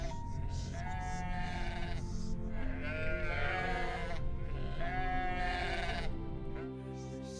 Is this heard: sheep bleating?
yes